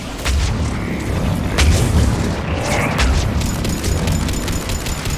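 Missiles launch in Mass Effect 3 gameplay, with repeated booming blasts over a dense, continuous rumble of battle noise. No one speaks.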